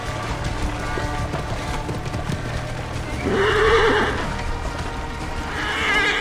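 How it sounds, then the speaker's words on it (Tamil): Horses pulling a cart in Assassin's Creed Origins whinny loudly over a steady clip-clop of hooves and rumbling game ambience, with two distinct neighs. "ரெண்டு குதிரை இருக்கே."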